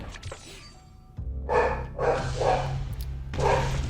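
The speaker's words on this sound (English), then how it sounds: "Oh boy, the dogs are barking." Dogs bark in a game battle: three or four loud, close barks in quick succession after a short quieter lead-in, with a low rumbling background underneath.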